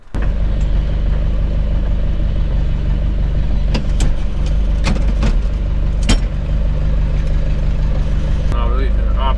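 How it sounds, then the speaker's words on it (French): A tractor engine drives along in a vegetable garden with a steady, loud, close mid-pitched rumble, and a few faint clicks and knocks sound over it. "on prend les box et on y va en tracteur"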